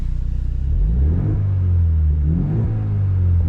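A 2024 Ford Mustang EcoBoost Premium in normal exhaust mode, heard from the cabin: a deep, fairly loud engine rumble that rises in pitch through two rev swells, steady and close with no voices.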